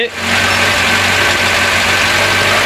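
A car engine idles while still cold, with a steady, close mechanical hum and vibration that settles in after a brief dip at the start.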